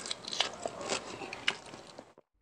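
Crispy skin of a whole roasted lechon de leche suckling pig is bitten and chewed, giving several sharp crackling crunches close to the mic before it cuts to silence.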